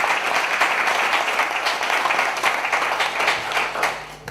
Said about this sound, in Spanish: un fuerte aplauso para la organización